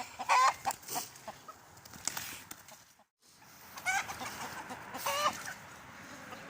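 Several chickens, a rooster and hens, cluck and squawk close by in short irregular bursts, with brief pauses between outbursts and a rustling yard background.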